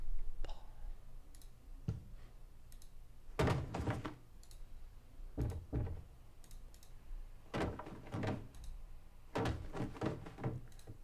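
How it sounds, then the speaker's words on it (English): Body thud sound effects from a stock library: several dull, heavy thumps land at irregular intervals, separated by quieter sharp clicks, all fairly soft. "And maybe a body thudding on the floor."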